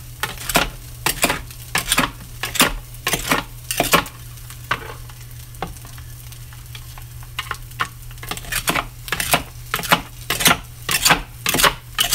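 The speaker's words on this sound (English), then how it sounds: "let me dice all this up" Knife dicing ingredients for a packed meal: a steady run of sharp, rapid chopping taps with a brief pause midway, close and loud, over a low constant hum, with no one talking.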